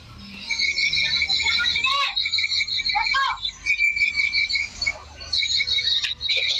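Dense chirping and twittering of many swiftlets from a played-back roosting call recording in Southeast Sulawesi, high and continuous, with brief pauses and faint voices underneath.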